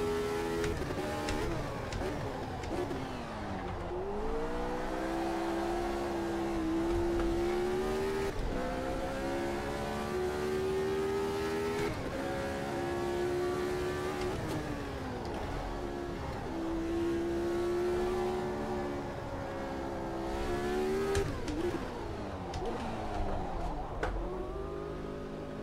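Niki Lauda's McLaren Formula 1 car in Automobilista 2, its engine revving hard through repeated rising and falling pitch sweeps as gears change, a continuous loud howl with no speech over it.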